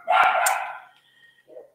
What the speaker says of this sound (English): I hope you can hear above the dog barking.